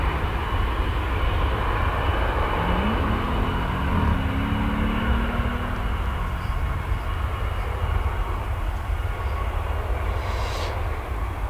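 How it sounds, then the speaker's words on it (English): A jet airliner taking off from the runway at DFW Airport, a loud, continuous broadband engine roar heard from the airfield's edge, holding steady with a faint rising whine beneath it. "DFW takeoff action for you."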